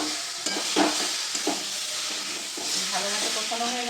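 Egg curry masala is sautéed in a pan, with a spoon scraping and stirring through a continuous sizzle in short, uneven bursts, close and fairly loud.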